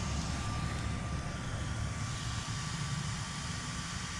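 A small cooling fan on an ARRMA Talio RC car whirs steadily up close, a constant airy hum with a thin tonal whine that holds without a break.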